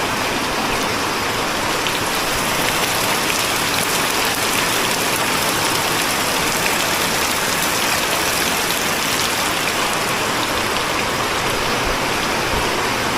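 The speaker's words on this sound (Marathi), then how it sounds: "कसला पडतोय बघा पाऊस" Heavy unseasonal rain pours down steadily over rice fields in Konkan, a dense, loud hiss of drops drumming on surfaces with no let-up and no voices.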